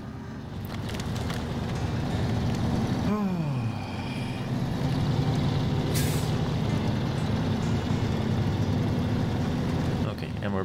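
A heavy fuel truck in the video game SnowRunner drives along with a steady, loud engine drone, a sharp air-brake hiss near the start and a brief high burst midway, with talking over it.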